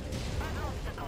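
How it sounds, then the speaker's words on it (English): An ammo explosion in the MechWarrior 5: Mercenaries video game gives a short, dense, muffled boom, blurred together with other game noise and heard under speech. "There you go, ammo explosion."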